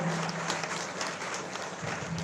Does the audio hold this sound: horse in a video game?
no